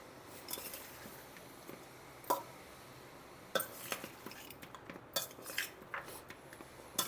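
A metal utensil mixes cooked rice for amla (usirikaya) pulihora, giving soft scraping with a few sharp clinks and taps against the pot, sparse at first and then more frequent.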